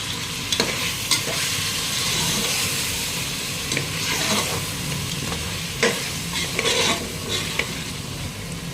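A spoon stirring chicken biryani with biryani masala and curd in a hot pan, a continuous sizzle and hiss broken by scraping and clinking strokes, close and steady.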